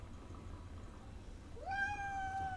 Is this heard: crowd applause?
no